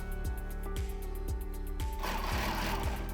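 A sewing machine quilts along a ruler template with a steady motor hum and evenly spaced stitch thumps, roughly two per second, close and continuous.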